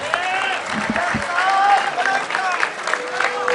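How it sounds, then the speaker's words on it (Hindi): Applause from a crowd at a bar association rally in Gujranwala, moderate clapping with some voices and cheering mixed in, running through the short clip. "तालियां"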